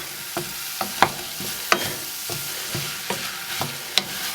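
Half a teaspoon of turmeric with cumin sizzles steadily in a hot pan, a continuous hiss broken by sharp clicks and taps of a utensil stirring against the pan at irregular intervals.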